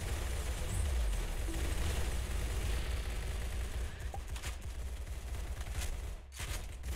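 Dense, sustained gunfire from weapons in the Roblox game Arsenal: a continuous barrage of rapid shots running through the whole stretch, with a brief dip near the end and no voices.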